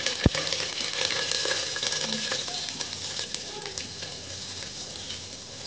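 Freshly ground masala frying in hot oil with curry leaves in a pan, a dense continuous sizzle with scattered crackles and occasional utensil taps, fading slightly over time.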